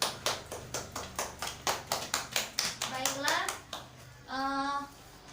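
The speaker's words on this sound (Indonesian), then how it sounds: "Tepuk tangan untuk Fiona." A classroom of children claps together for a classmate, a burst of sharp, evenly spaced handclaps close by that fades out, followed by a voice and a teacher speaking.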